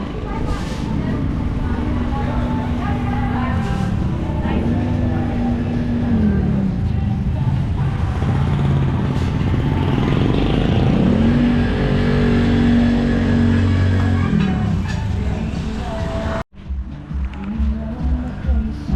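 Cars pull up at a roadside restaurant, their engines rumbling and rising in pitch as they approach and slow, steady and close, while people talk over the motor noise.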